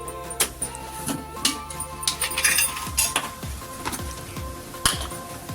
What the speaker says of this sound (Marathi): आता त्याच्यावर कढई ठेवतीये